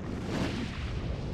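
A rocket launcher explosion in the video game Resident Evil 4 during a boss fight against the village chief, a dense rumbling boom that fills the short clip at steady loudness.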